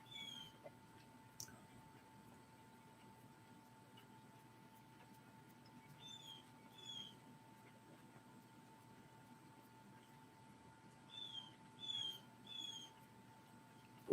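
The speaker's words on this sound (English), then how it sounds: "listen to them birds out there." Birds call outdoors in short clusters of chirps at a distance, faint over a steady low hum and background hiss, with occasional small clicks and no talking.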